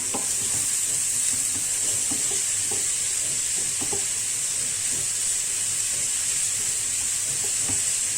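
A spoon stirs a vegetable and beef lasagne filling frying in a pan. A continuous bright sizzle carries irregular scraping and shuffling strokes throughout, close and fairly loud, with no talking.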